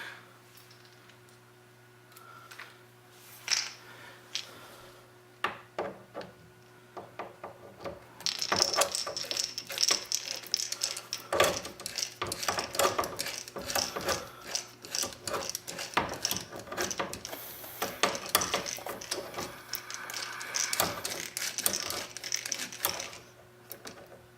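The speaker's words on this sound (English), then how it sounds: "I'm not tightening them too much, just to the point where it's firm" A ratchet tightens screws on a Sega OutRun arcade machine's gear assembly, starting with sparse clicks and then turning into rapid, dense bursts of ratcheting close up over a low steady hum.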